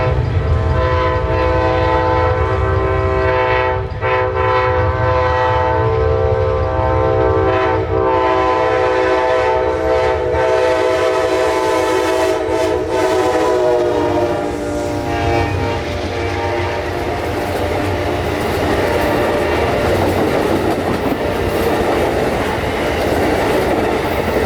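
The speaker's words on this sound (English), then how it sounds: "Amtrak 92 crested the hill and sped through town" Amtrak 92 passenger train speeding through a Central Florida town, loud and close, with a long horn blast over rumbling, clattering cars that continue after the horn fades.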